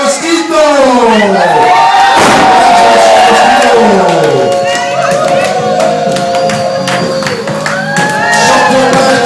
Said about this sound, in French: Je vous demande d'applaudir El Mosquito.